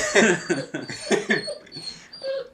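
A dog whimpers and whines in short, high, nasal bursts in a repeated rhythm, close and fairly loud, with no talking over it.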